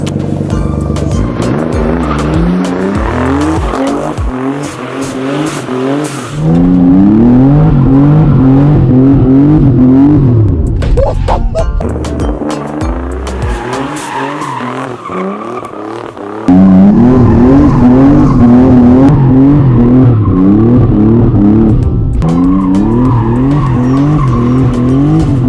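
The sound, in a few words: straight-piped twin turbo Nissan 300ZX driving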